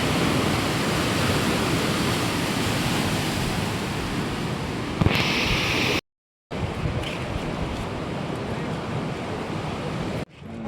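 A river flooded after heavy rain roars as a loud, continuous broadband rush of water, interrupted by a short break partway through.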